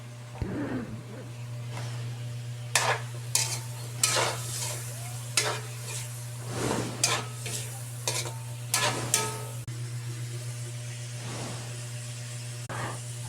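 Chicken tinola with papaya is stirred in a pot: repeated scraping, clanking strokes of a spoon over a faint simmer, with a steady low hum behind.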